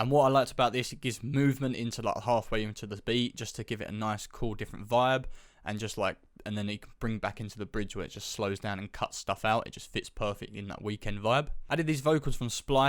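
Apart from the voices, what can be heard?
No everyday noise stands out behind the speech.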